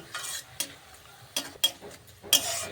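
Amla pieces frying in oil over low heat while being stirred, with a few sharp spoon scrapes and clinks against the pan over a soft, low sizzle.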